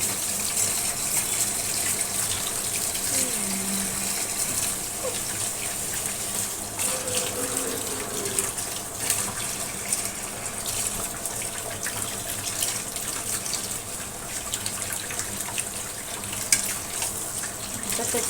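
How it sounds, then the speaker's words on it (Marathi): Crabs being scrubbed with a brush under a running kitchen tap, a steady close gush of water with faint scrubbing and splashing mixed in. "हे बघा तिला आता आपण स्वच्छ धुवून घेऊ पहिला ब्रश घ्यायचा कारण चिखल असतो त्यांना"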